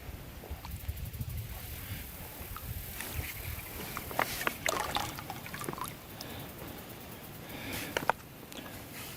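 An empty Sawyer Mini filter bag is pushed under water outdoors, giving soft gurgling, trickling and sloshing water sounds with a few brief splashes, fairly close and moderate in level, with no talking.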